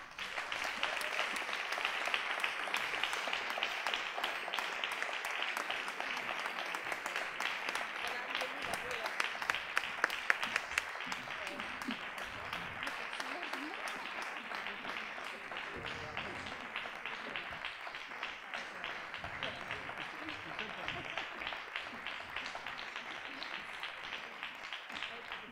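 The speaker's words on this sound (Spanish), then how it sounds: "si zaslužita dvojno dozo aplauza" An award ceremony audience at a marketing director of the year event applauds steadily for the whole stretch, dense, even clapping from a large crowd that stays fairly level throughout.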